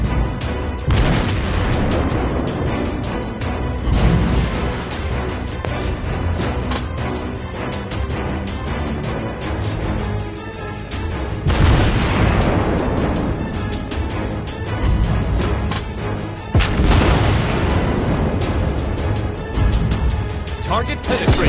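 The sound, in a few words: naval artillery fire and shell hits, video game World of Warships Blitz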